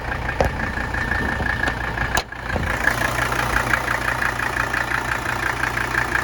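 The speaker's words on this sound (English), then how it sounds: "Those are my favorite engines in the world, OM617A." A Mercedes-Benz OM617A diesel engine in a 1983 300SD idles with a steady, even clatter, heard up close with the hood open, broken by a few brief sharp knocks early on.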